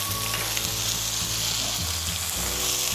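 Ginger garlic paste frying in hot oil in a pan for potato momo filling: a loud, dense, continuous sizzle, close up, with a low background hum and no talking.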